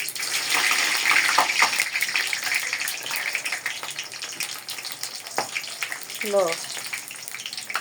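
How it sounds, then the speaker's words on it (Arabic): Samosas frying in hot oil, a steady hiss and crackle of bubbling oil throughout, fairly close, with someone talking over it. "هنحط السمبوسة تحمر"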